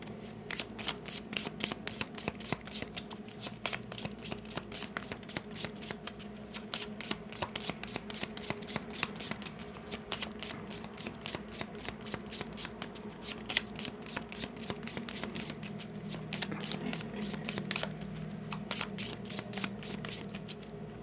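A cigano tarot card deck is shuffled by hand continuously, a rapid, crisp riffling of cards flicking against each other in steady bursts, close and fairly quiet, with no talking.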